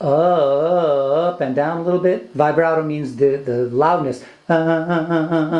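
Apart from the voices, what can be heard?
No everyday noise stands out behind the speech.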